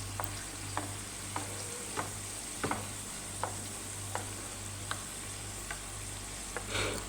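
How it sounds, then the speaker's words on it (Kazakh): Chebureki frying in a pan of oil, with a steady soft sizzle throughout and a series of light, regular clicks and scrapes as oil is spooned over the tops. "Одан кейін чебурекимізді майға салғаннан кейін осылай қасықпен майды алып, осылай үстіне құямыз."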